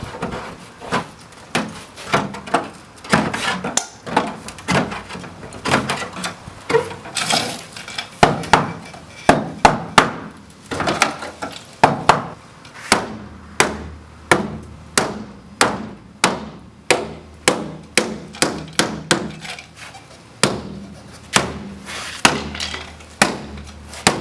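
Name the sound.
prying out cut vehicle body panel for over fenders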